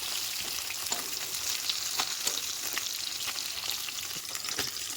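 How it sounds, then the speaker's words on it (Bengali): Snakehead fish fries in hot oil with a loud, close, crackling sizzle that spatters and pops continuously throughout, with no voices. "যেহেতু আমি পাকা তেঁতুলের মাড়ি দিয়ে আটা আটা করে শোল মাছের টক করবো, সেই জন্য মাছটা আমি খুবই ভালো করে ভেজে নিচ্ছি।"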